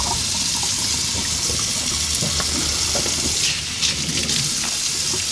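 Tap water pouring steadily while raw peanuts are rinsed in a sink: a loud, continuous hissing rush with faint clattering of shells and a brief shift in the flow near the end.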